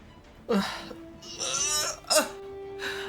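A character in the visual novel game Virche Evermore coughs in several separate, rough bursts, with short gaps between them, over a steady low tone.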